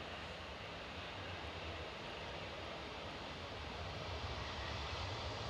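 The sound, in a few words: airplane taking off at Edinburgh Airport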